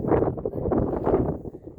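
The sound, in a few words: strong wind on mountain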